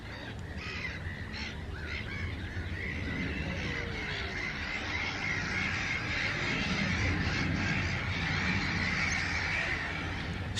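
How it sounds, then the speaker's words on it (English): Seagulls squabble by a lake outdoors, a steady chorus of harsh overlapping calls and cries heard at a moderate distance over broad ambient noise, with no speech. "Squabbling seagulls, eh?"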